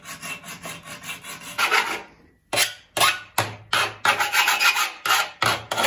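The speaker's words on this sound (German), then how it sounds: "Und jetzt werden wir noch diese Stangen einmal zurechtschneiden." Curtain rods being sawn to length by hand in a basement room under renovation, with close, rhythmic rasping strokes in quick succession, a short pause, then more steady back-and-forth cuts.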